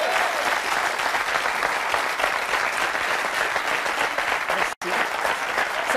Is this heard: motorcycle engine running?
no